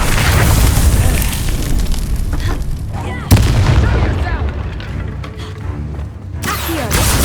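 Confringo fire-blast spell bursts in Hogwarts Legacy combat, loud booming explosions layered with crackling fire and battle noise, one sharp blast near the middle and another toward the end.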